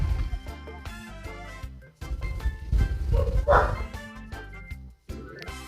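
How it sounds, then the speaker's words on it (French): A pet dog barks repeatedly in short, loud yaps, sounding unhappy and impatient to be taken for a walk, close by and mixed with a voice talking. "Vous entendez mon toutou qui n'est pas content"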